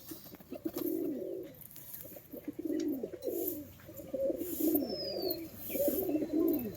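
Andhra pigeons coo in repeated throaty, rolling bursts at close range, several calls overlapping in a steady rhythm, with faint chirps behind.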